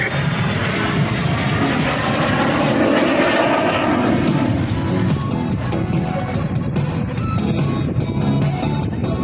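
A Yak 110 aerobatic jet-prop aircraft flying a display at the Shellharbour airshow 2024, its loud, steady engine roar sustained throughout with a broad, droning tone and no talk.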